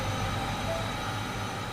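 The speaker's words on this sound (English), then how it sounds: "That is a ridiculously long train for this game." A very long train strains to accelerate in a video game, a steady dense rumble of wheels and rolling stock with a faint thin squeal over it, continuous and fairly loud.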